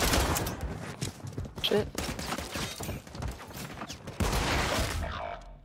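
Rapid bursts of video game gunfire in a gunfight, close and loud, with overlapping shots and fusillades running throughout while a player swears and talks over the action.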